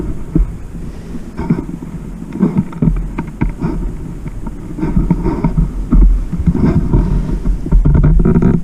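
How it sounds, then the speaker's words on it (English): Wind gusting through a hidden cave, a low roaring rumble with buffeting surges that swell louder toward the end, close and steady with no talk. "I'm afraid that that wind is just gonna blow our fire around."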